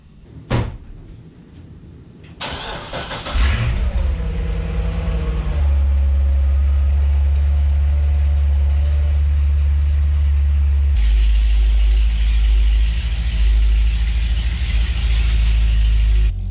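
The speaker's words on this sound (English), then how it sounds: "So let's go ahead and start out with a cold start." A Chevrolet C6 Corvette Z06 with the 427 V8 cold-starts: a door thumps shut, the starter cranks, and the engine catches with a loud flare before settling into a heavy, steady high idle that shifts in tone near the end.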